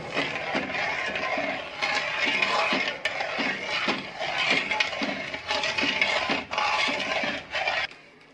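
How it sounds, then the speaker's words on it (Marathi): Jalebi batter mixed with sugar is stirred steadily in a bowl, giving a continuous close scraping and clinking of a spoon in rhythmic strokes for about eight seconds, then stopping, with no talking. "व्यवस्थित हलवून घ्यायचे।"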